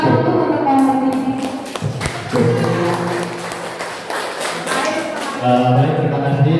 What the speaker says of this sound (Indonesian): Tepuk tangan dulu untuk Pak ini.